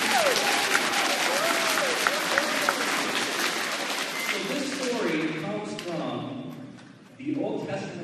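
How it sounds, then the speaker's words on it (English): A school chapel audience of first and sixth graders applauds for Mr. Lamas, a dense, steady roar of clapping that carries for several seconds, then thins out with a brief lull before a short burst returns at the end. "Let's give a clap for Mr. Lamas."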